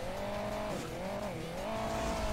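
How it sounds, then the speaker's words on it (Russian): In Hill Climb Racing 2, a motorcycle's buzzing engine drones steadily, its pitch dipping and rising as it rides past over continuous game sound. "Мотоцикл, значит, проехал."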